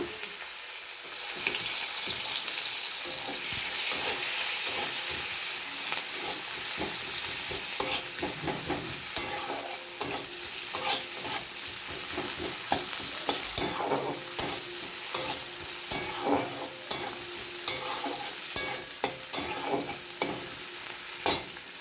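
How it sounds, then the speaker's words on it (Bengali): Onions fry in hot oil with a constant dense sizzle, close and steady, while spoon stirs scrape and clack more often toward the end; no voices. "তেল গরম হয়ে গেছে, আর পেঁয়াজ দিলাম।"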